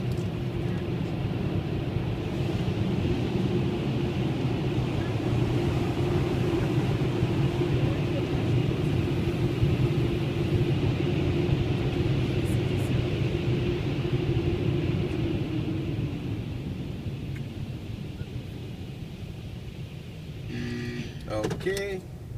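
An automatic car wash runs over a car with a steady, loud low rumble and dense broadband wash noise that holds for most of the stretch, thinning near the end as brief clattering sounds emerge.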